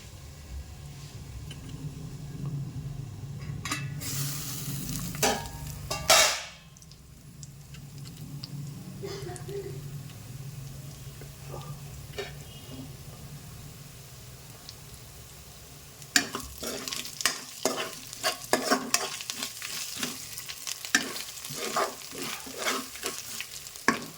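Ingredients frying on low flame in a home kitchen pan, a soft sizzle with occasional stirring scrapes and clinks, one loud clatter early on and busier stirring near the end, with faint talk at times.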